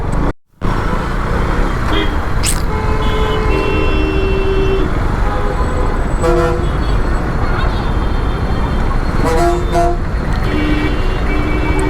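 Dense city highway traffic rumbles continuously while several vehicle horns toot in short bursts and clusters, loud and close amid the steady engine and road noise.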